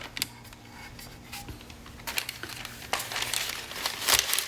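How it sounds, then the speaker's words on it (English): Parchment paper is handled and crinkled while a tumbler is prepared for sublimation, giving soft irregular rustles and crackles that build louder toward the end, with no talk. "And so now we have parchment paper, or you could use butcher paper."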